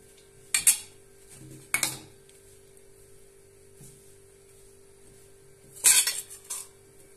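Utensils clatter and scrape against a bowl in a few separate bursts while a cheese and parsley filling is mixed, with quiet gaps between them.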